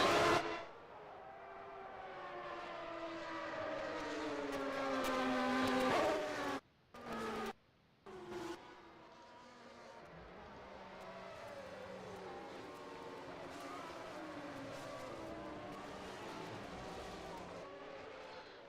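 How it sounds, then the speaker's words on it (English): Formula One cars of the 1993 Australian Grand Prix in Adelaide on the formation lap, engines whining and rising in pitch as several pass, a loud near rush at first, then a steadier distant drone. "the cars quickly, briskly get through the formation lap to get this Australian Grand Prix underway"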